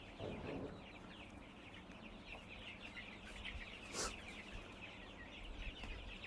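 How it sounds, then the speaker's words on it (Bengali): Tiger chickens on a poultry farm, several birds clucking softly at a moderate distance over a hum of farm background noise. "আপনার এটা কি মুরগির খামার? টাইগার মুরগি কেমন? সবগুলো টাইগার মুরগি?"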